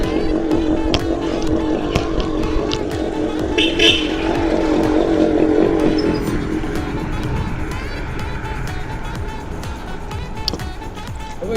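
Road traffic from an electric bike on a provincial road in Quezon, Philippines, with a passing motor vehicle whooshing close by and fading, steady wind and road rumble throughout, someone speaking briefly.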